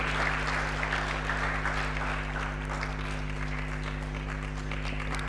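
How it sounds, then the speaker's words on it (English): A crowd applauds steadily, dense clapping sustained throughout over a constant low electrical hum. "Keep clapping, keep clapping"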